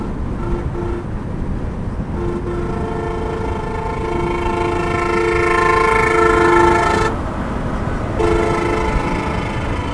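A bus racing on a highway blares a loud, tonal horn in long sustained blasts over a steady road rumble, with a brief break before the horn resumes.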